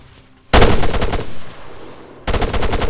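Sustained bursts of rapid automatic gunfire during an infantry firefight in the military shooter Arma 3, loud and close, starting abruptly after a quiet moment, easing briefly, then resuming as another hard burst.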